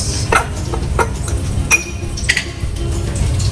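A spoon clinks against a bowl while mixing cinnamon and brown sugar, giving a few scattered, bright taps and scrapes over low background hum.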